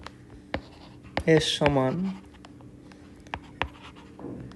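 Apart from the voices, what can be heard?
writing out a math solution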